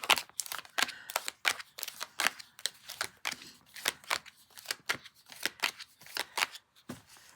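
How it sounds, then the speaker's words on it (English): Hands shuffle tarot cards up close in a quiet room, a rapid series of crisp riffling snaps and soft slaps repeating in an uneven rhythm. "as I'm shuffling the cards"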